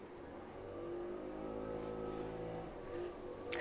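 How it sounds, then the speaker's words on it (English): A lawn mower drones steadily outside, faint and distant, its pitch shifting slightly as it runs. "Somebody is cutting their lawn, so sorry for the outside noise."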